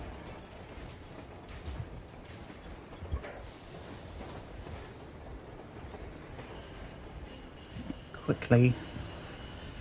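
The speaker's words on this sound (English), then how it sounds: "Friendly train." Train in the video game Metro Exodus: a continuous low rumbling rail roar with clattering and a sharp metallic squeal near the end, moderately close, with people talking over it.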